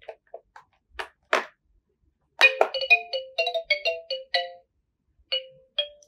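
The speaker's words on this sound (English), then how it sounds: "This is the xylophone sound." Electronic toy piano in xylophone mode plays a string of short bright chiming notes, a few scattered taps first and then a quick run of tones with gaps between, close and clear.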